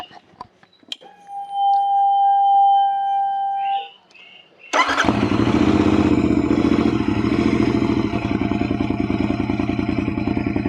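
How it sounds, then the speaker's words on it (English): A high whine and a few clicks, then a Royal Enfield Continental GT 650 motorcycle engine starts and settles into a loud, close idle with an uneven, choppy lope from its cams. "I'll give you a bit of engine sound."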